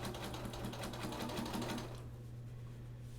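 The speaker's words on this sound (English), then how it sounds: "And now we're going to go ahead and start sewing." A sewing machine stitches binding onto the edge of a quilt, a steady close-up whir with rapid needle ticks that runs for about two seconds and then stops, leaving a low hum.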